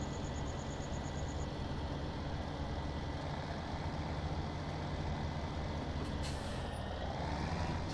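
A heavy tractor engine in Farming Simulator 17 runs loud and steady, with a faint repeated beeping early on and a sharp hiss of air release near the end, no talk.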